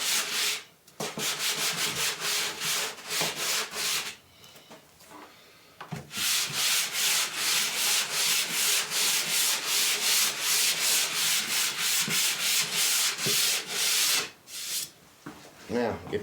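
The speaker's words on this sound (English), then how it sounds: "you can use your sanding block. That is just fine." Wood sanded by hand with a sanding block along the grain, a steady rhythmic rasping of quick back-and-forth strokes, close and prominent, broken by a few short pauses.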